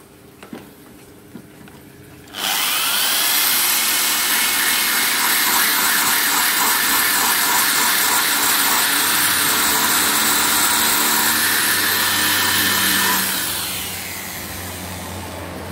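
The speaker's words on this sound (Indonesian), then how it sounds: "langsung saja kita bor pakai bor listrik ya" After a quiet start with a couple of small knocks, an electric drill whirs loudly and steadily for about ten seconds, drilling into a pecel grinder's flywheel, then winds down to a lower hum.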